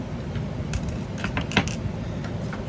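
Metal Allen keys clink and jangle in a few brief, bright bursts over a low background rumble, close by and moderately quiet.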